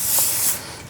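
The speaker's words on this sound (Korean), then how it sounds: "그리고 스프레이 더 뿌려줄게요." Hairspray sprays onto hair in a single short, bright hiss that lasts about half a second and then tapers off, heard close up.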